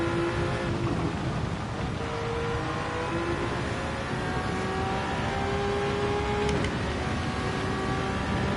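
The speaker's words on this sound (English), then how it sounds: "we have got rain" Steady rain hisses over the drone of a racing car engine in Gran Turismo 7, a constant wash of noise with the motor's tones shifting underneath and no voices.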